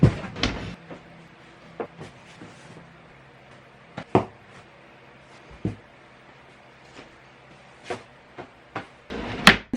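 Wooden clunks, knocks and sliding bumps come at irregular intervals as a drawer is opened and shut during packing, with faint rustling between the sharper knocks.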